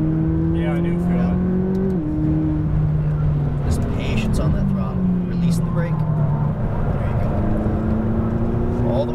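A McLaren 570S on a race track, its high-revving engine droning loudly and steadily with rising and falling pitch through gear changes, a coaching voice talking over it throughout.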